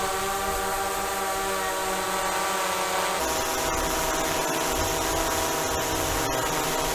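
Whirring propeller noise from a DJI Mavic 2 Pro drone fitted with low-noise propellers, a steady, dense hum with layered tones that holds close and continuous for the whole stretch, its pitch shifting partway through.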